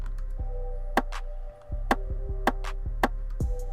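Percussion sample in a trap beat, crisp ticking hits landing roughly every half second over a sustained bass and synth pattern that drops out briefly near the middle, no talking.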